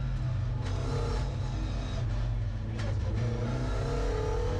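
Lotus Talbot Sunbeam rally car running on a tight, slippery off-road rally stage at Knockhill, its engine droning steadily and loudly throughout with rising revs and no talk.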